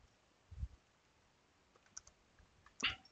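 Computer keyboard keys pressed while typing Java code, a few sparse faint clicks with a sharper keystroke near the end, quiet and isolated against a low background hiss.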